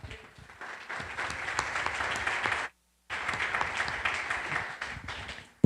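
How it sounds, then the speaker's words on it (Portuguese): A Sunday worship congregation applauding the King, a dense, sustained roar of clapping that cuts out abruptly for a brief moment before resuming just as full. "Aplauda o Rei."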